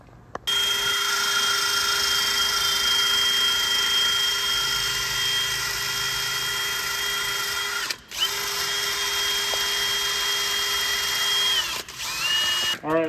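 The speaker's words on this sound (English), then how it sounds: "I've sanded out most of the rust" A power tool sands rust from the inside of a 2014 Volkswagen Tiguan front strut housing, making a loud, steady high whine that cuts out briefly twice before stopping.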